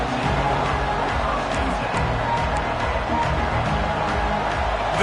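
Stadium crowd roaring at a football game, a loud, sustained wash of massed voices and cheering that fills the whole stretch without a break.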